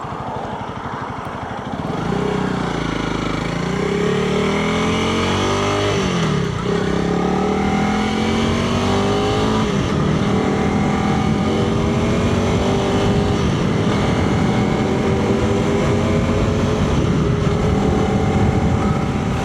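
A 2025 Honda CRF300L Rally motorcycle engine drones steadily and loudly while riding a busy twisty road, its pitch rising and falling through gear changes and revs.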